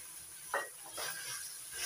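Chicken keema goes into a pan of spice masala and sizzles softly, with a light thud as it lands and then a faint steady frying hiss and stirring, quiet and close.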